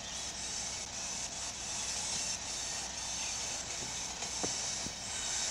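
A steady rumbling train in the video game Train Sim Pro USA, with hissing, clattering wheels, continuous and fairly close, with no voices.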